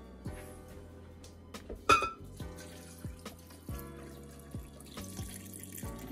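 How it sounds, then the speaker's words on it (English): Water poured over cut-up coconut pieces in a blender jar, with a light trickle and scattered drips, one brief louder splash, and soft, close liquid sounds throughout, with no voices. "Add some water to it."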